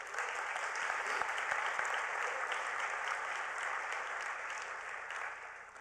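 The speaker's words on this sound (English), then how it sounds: "So guys, please give Steve a round of applause." Steady applause from a large audience at a university-backed prize finals and awards ceremony at the United Nations, honoring Steve, filling the hall evenly at moderate distance without any voices.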